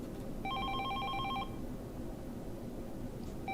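A telephone in the video game 428 Shibuya Scramble gives one short, bright electronic trill of pulsing tones lasting about a second over a steady, hissing background, followed by a faint hint of another ring at the end.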